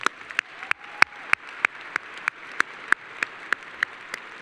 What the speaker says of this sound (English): Give Ms. Sandhofer a round of applause